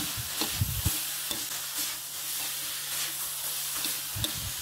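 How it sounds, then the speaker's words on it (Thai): Holy basil stir-fried with minced pork and pickled bamboo shoots in a hot pan gives a steady, close sizzle, broken by brief scraping and stirring knocks, with no voices. "ผัดให้ใบกะเพราโดนความร้อนให้หมดเลยนะครับ"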